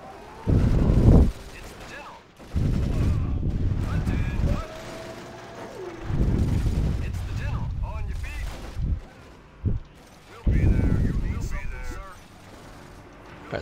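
Heavy artillery bombardment in the Axis & Allies (2004) strategy game, Operation Overlord D-Day campaign: several loud, booming blasts arrive in separate bursts with quieter rumbling gaps between them, while someone talks over parts of it.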